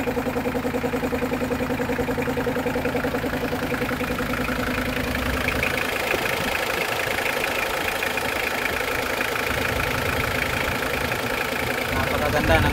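A freshly overhauled Mitsubishi Pajero 4D56 turbo diesel engine, made in Japan, idles with a steady, even rumble throughout, while someone talks over it.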